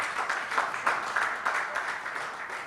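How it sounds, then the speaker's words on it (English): Audience at a governance forum on Ghana's development applauds a speaker, steady mid-level clapping that stays even throughout. "Please, a hand of applause."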